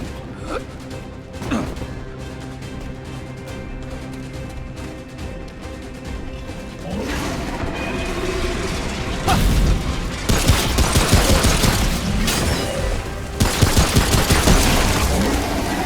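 Remnant: From the Ashes combat as an enemy calls in a prowl: sustained loud crashes, bursts of rapid gunfire and booming impacts pile up continuously, growing denser and heavier toward the end, with no talk.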